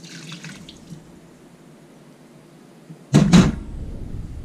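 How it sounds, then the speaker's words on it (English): Apple juice poured from a cup into a cooking pot, a brief gush of liquid splashing in near the end after mostly quiet handling, close and fairly loud. "Now I'm put some wet ingredients in there. I have a cup of apple juice"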